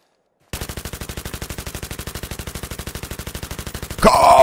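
Rapid automatic fire from an AEK assault rifle in the shooter game Battlefield 3, a steady even stream of shots lasting several seconds, then a louder burst of noise at the end.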